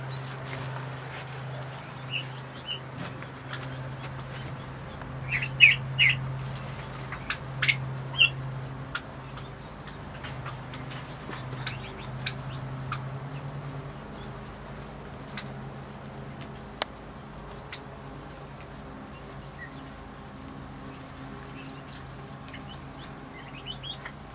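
Breeding flock of 247 poultry calling in a barn: a steady low hum of murmuring birds with scattered sharper chirps and clucks, a cluster of louder calls early on, and occasional wing flaps, no talk.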